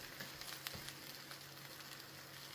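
Bacon sizzling on a 21-inch VEVOR commercial electric countertop griddle, a faint, steady crackle with small pops running throughout.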